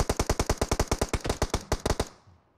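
Machine gun fire in a video game: a loud, rapid, evenly paced burst of about a dozen and a half shots lasting roughly two seconds, then cutting off into a short fading tail.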